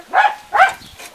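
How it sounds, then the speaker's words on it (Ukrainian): A dog barks twice in quick succession, fairly close, with a fainter third yelp trailing after, heard during the unpacking of a Motor Sich KF-1S rotary cultivator. "Щось гавкає."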